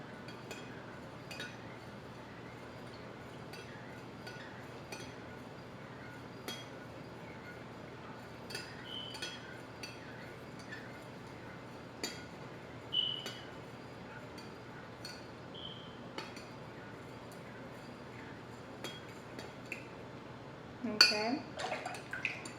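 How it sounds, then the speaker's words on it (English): A spoon stirring lemonade in a glass pitcher gives faint, scattered clinks and light taps over quiet liquid swirl, growing louder with a burst of rattling near the end. "And then you're just going to stir it."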